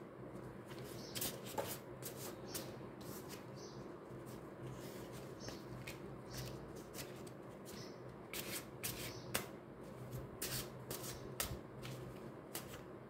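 Tarot cards are shuffled close up in rapid, crisp riffling bursts that repeat at irregular intervals throughout, fairly quiet and without any voices.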